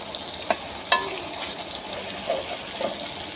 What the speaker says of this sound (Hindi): इसी हिसाब से चम्मच के साथ इसको करेंगे नरम टमाटर को ताकि टमाटर का बन जाए ग्रेवी